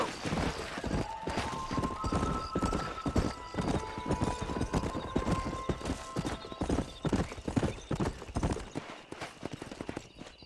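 Horse hooves clip-clop at a steady gallop in the Western video game Red Dead Redemption, a continuous close rhythm of thuds with occasional whinnies over sustained background music.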